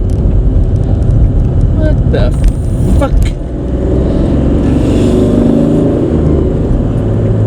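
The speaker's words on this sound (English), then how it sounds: "this car is a 3-cylinder diesel" A 3-cylinder diesel car drives along a road near a roundabout with a steady, close engine drone and road rumble, while a voice talks over it.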